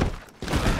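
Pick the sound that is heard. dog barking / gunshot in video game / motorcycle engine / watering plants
gunshot in video game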